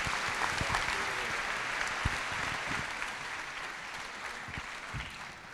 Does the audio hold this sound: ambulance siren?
no